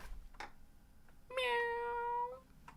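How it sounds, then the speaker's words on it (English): A cat lets out a single clear, drawn-out meow lasting about a second, close and distinct against a quiet indoor background with faint clicks before and after. "Meow."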